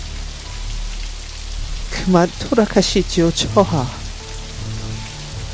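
Steady soft patter of rain runs throughout, with a voice speaking briefly in the middle over it.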